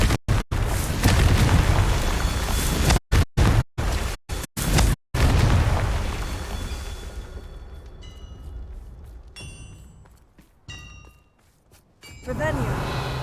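A Confringo spell fired in the Hogwarts video game gives deep booming blasts with crackling bursts. Several hits in a row are broken by sharp dropouts, then the sound fades into quieter game ambience with a few pings.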